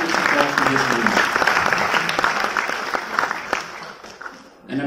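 Audience applause at a student felicitation program, a steady wash of many hands clapping that holds for several seconds, fades slightly, then swells again near the end, with a voice partly heard over it.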